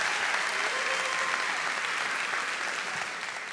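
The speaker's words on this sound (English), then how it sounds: "Another big round of applause for all of the students who performed that opening piece" Dense, sustained applause from a large audience at a student talent show, a continuous wash of many hands clapping at an even level throughout, tapering only slightly near the end, with no voices standing out.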